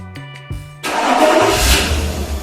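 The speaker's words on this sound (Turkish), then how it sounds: "Marş emrimizi gönderelim kontağımızı açtı." A 2004 BMW E46 started by remote command first gives a few short electronic beeps and tones, then the engine cranks and fires, settling into a loud, steady idle close by.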